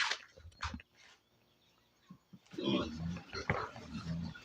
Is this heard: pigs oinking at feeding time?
yes